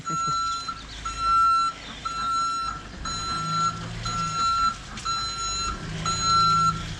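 A truck delivering wood chips reverses with a steady series of evenly spaced high beeps over a low engine rumble, heard at moderate distance, with no speech.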